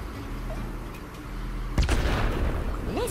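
A weapon blast in Worms W.M.D., a sudden loud boom partway through over a low steady backdrop, followed by scattered debris, a rising whistle and some talking.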